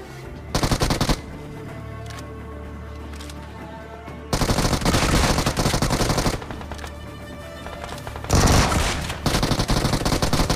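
Automatic gunfire in PUBG/BGMI mobile gameplay: loud rapid bursts of machine-gun fire separated by short quieter gaps, close and dense, with no talking.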